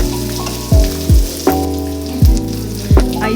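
Green chillies, cinnamon and cloves fry in hot oil for chicken masala gravy, a loud close sizzle broken by several sharp bursts as pieces hit the pan or get stirred, with no voices.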